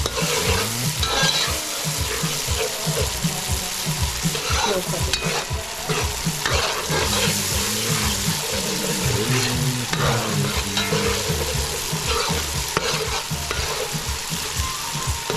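Lamb curry with potatoes cooks in a pot with a steady, loud sizzle and frequent stirring scrapes, filling the whole stretch with continuous frying noise and no talking.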